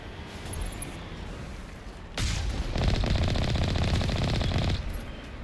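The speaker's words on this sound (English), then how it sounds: "only using the machine gun" Sustained automatic machine gun fire from the video game Mass Effect 1: a continuous rattling burst of about two and a half seconds, loud and close, after a quieter stretch of ambient game sound.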